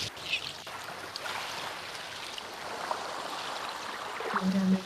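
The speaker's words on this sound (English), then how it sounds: "Water moving swiftly over rocks." Water runs swiftly over rocks in a stream near an estuary, a steady broadband rush with light splashes and trickles throughout, slightly louder toward the end.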